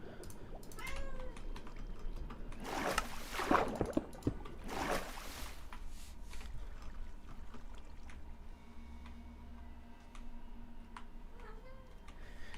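A pet cat meows a couple of times, faint and somewhat distant behind a steady low background hum, with a few light clicks scattered throughout.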